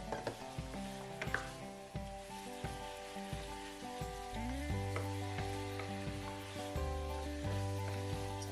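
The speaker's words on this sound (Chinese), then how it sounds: "再加入我们的姜，继续爆香" Ginger stir-frying in hot oil in a home kitchen for braised pork, a steady close sizzle with scattered stirring taps, heard alone under a droning background tone.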